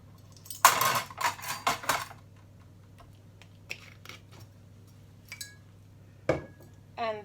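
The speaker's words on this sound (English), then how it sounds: "So this and the vinegar I'm going to mix now with the butter and sugar mixture" White vinegar stirred into a butter and sugar mixture in a bowl for a red velvet cake, a burst of clinking utensil-on-bowl scrapes followed by scattered lighter taps and clinks against a quiet hum.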